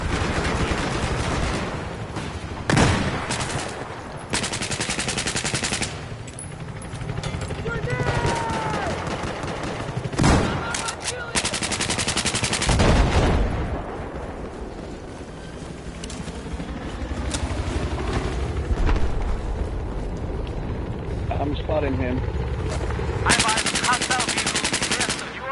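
Video game gunfire in Battlefield, rapid automatic bursts and single shots rattling loudly and repeatedly over a busy battle din with engine noise, and a voice occasionally breaks in.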